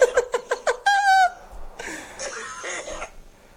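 A run of short, sharp coughs in quick succession, followed by a strained wheeze and rough, raspy throat sounds.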